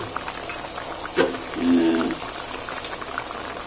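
Chicken adobo simmers with soy sauce, vinegar and chili in a pot, giving off a steady bubbling burble. A soft voice is faintly heard nearby.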